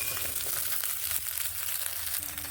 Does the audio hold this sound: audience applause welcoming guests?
no